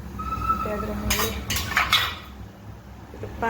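A cooking pot with a little water set down on a gas stove for a Mangalorean rice breakfast, a cluster of loud metallic clanks and scrapes in the middle over a quiet kitchen background.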